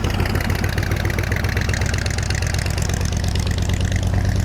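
A 1976 Chevy G10 van engine running with its timing off idles close and loud, a dense, rough, uneven chugging with a knocking pulse that holds steady throughout with no talk.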